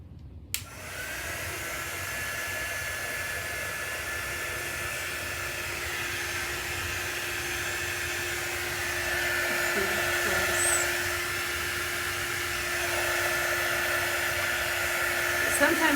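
A hair dryer runs continuously up close, a steady whirring blow with a faint whine, drying chalk paste on a repurposed frame; it starts abruptly and holds at constant loudness throughout.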